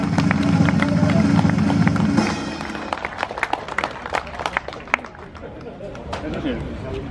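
A crowd at a classic car meet in Aken applauds the first oldtimer trophy winner, with steady outdoor clapping that starts loud and then thins into scattered claps under talk.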